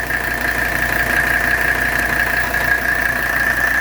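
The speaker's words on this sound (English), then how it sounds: "Man, look how smooth that engine is." A 1984 Mercedes 300SD with the 617 diesel engine idles smoothly right after a valve adjustment, a steady, loud, even clatter and hum with a constant whine, close up and with no talk.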